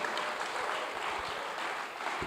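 Applause from an audience at an African investment conference, a steady dense wash of clapping filling the short stretch at moderate loudness with no talk over it.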